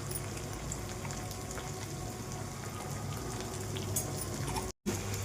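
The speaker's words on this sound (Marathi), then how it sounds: "हा दळलेला मसाला टाकून देऊ. परतून घ्यायची भेंडी फक्त." Okra sautéing in a pan with ground masala for a stuffed masala bhindi fry, a soft continuous sizzle and bubbling that cuts out for a split second near the end, quiet and close with no talk.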